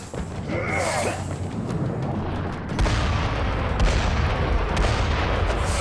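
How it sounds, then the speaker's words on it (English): Cannon fire in the video game Hand of Fate arrives as a heavy boom partway through, then dense rumbling impacts continue loudly to the end. "I guess he's calling in some cannon fire."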